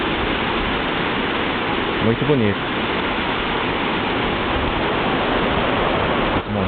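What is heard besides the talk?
small waterfall in Keminomori Park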